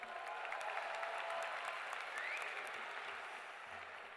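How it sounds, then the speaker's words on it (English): Graduates at a high school commencement receive steady applause from a large crowd, a broad wash of clapping that holds evenly throughout at moderate distance, with no talk over it. "Round of applause, all TJ graduates."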